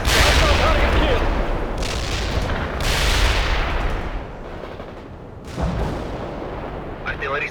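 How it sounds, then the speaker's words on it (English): Artillery strike and gunfire in the real-time strategy game World in Conflict: rolling, heavy booming explosions and crackling gunfire fill the mix continuously, with surges of blasts and a short in-game radio voice. "Artillery strike is inbound. Avoid the strike area."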